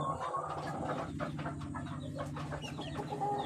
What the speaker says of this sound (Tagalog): Yan ang aking mga sisiw.